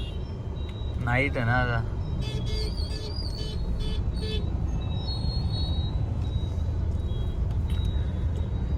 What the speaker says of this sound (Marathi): ही लागली ट्रॅफिक